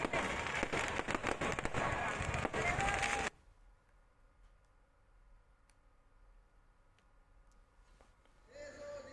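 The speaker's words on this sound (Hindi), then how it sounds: "करौली की तस्वीर भी, जहाँ भव्य आतिशबाजी की गई।" Fireworks at a Dussehra Ravan Dahan celebration in Karauli, Rajasthan, crackle and pop densely and loudly for about three seconds, then cut off abruptly to near-quiet, with a voice coming in at the end.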